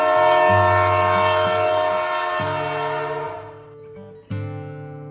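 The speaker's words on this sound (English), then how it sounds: "Bullet train," A bullet train's horn blares in long, steady blasts with brief gaps, loud and close over a low rumble, fading slightly before a final blast.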